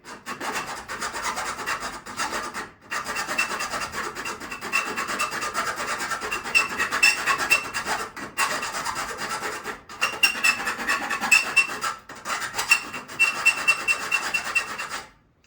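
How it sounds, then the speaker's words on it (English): Continuous rasping and squeaking as a tool cuts through metal, in long strokes broken by a few brief pauses, close and fairly loud. "We're going through 2 layers of metal right now, hence the squeaking sound."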